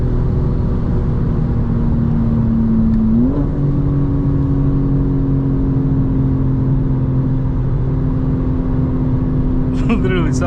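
A car engine drones steady and loud from inside the cabin, then climbs in pitch as it revs and accelerates through the gears, with a short rise partway through and a sharp rattle near the end.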